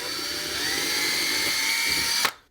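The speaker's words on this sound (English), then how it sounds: "So now we're just going to drill with a 3/16 bit here." A handheld power drill with a 3/16 bit bores a hole for mounting a carbon monoxide alarm, a steady high whine running close and loud for about two seconds before stopping abruptly.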